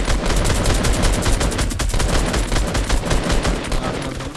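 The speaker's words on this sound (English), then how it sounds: "Oh shit, someone's shooting at me." Rapid automatic gunfire rattles nonstop in an online shooter match, a dense, loud fusillade of overlapping shots from several weapons lasting several seconds without speech.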